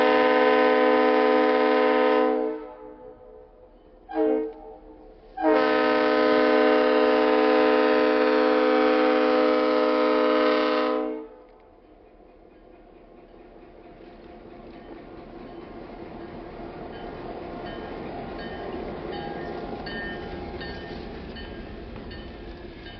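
Snow plow train departing south out of Connersville on the Whitewater Valley Railroad, with a loud chord horn blaring in two long blasts split by a short toot, then the train rumbling away in a growing steady roar.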